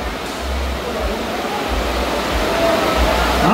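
Heavy rain pours down and leaks indoors, making a dense, steady hiss that swells slightly toward the end, with low rumbling underneath.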